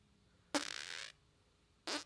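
A close, fluttering fart lasts about half a second, followed by a short silence and then a second brief burst.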